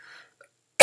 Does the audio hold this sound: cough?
yes